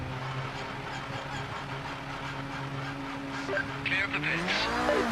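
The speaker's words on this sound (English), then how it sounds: "How does it sound when we are driving?" GT3 race car in the Project Motor Racing video game, its engine holding a steady droning note that climbs in pitch as it accelerates near the end.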